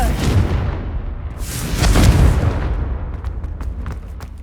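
Confringo blasting spell detonating in Hogwarts Legacy: a loud, deep boom swelling to a heavy peak midway, followed by crackling debris and sharp scattered pops as it fades.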